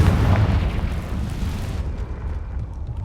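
Confringo fire spell explosion in Hogwarts Legacy, a loud, deep rumbling blast that booms from the start and then decays into a low rolling tail.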